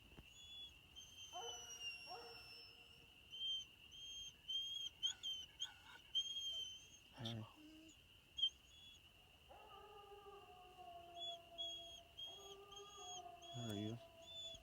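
A coon hunting dog bays on a track near a creek at night, its faint, distant howling rising a few times behind a steady high whistle and insect-like tone, with occasional softer noises.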